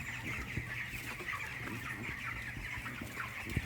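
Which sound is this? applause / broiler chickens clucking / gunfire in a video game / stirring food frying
broiler chickens clucking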